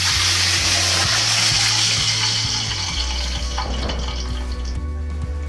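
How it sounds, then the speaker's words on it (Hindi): Water poured into a pot of whole spices, bay leaf, cinnamon, star anise, black cardamom and cloves for Hyderabadi chicken dum biryani rice, a steady close splashing rush over a low electric hum, with no talk. "अब इसमें डालेंगे पानी।"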